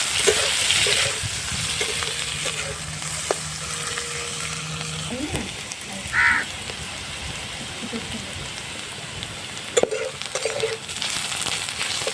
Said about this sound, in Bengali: মাছ ভাজার তেলে আর একটু তেল দিয়ে পেঁয়াজের ব্রেস্তাটা আমি করে নেব